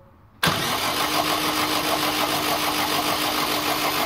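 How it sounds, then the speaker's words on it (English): A car engine with a cassette-type ignition coil turns over during a spark test, starting abruptly into a loud, steady mechanical whirr that continues without a break, close up. "if we turn the engine over"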